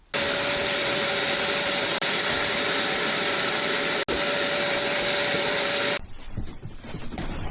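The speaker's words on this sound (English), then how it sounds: "If you know me, you know I love to hoover." A vacuum cleaner hoovers shelves in a workshop storage area, a loud steady whining drone with a constant tone that runs unbroken, then cuts off abruptly into quieter rustling.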